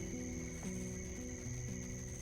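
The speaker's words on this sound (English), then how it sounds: "The sound of cicadas at night." A faint, steady insect drone of cicadas at night, with sustained high-pitched tones continuing unbroken on a quiet night, heard from a veranda.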